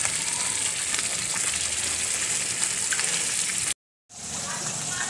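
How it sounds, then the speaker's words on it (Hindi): Curd is added to spiced vegetables frying in a pan for a home-cooked veg pulao, giving a steady broadband sizzle that holds nearly unbroken before a brief silent gap, then resumes. "दही ऐड कर देंगे"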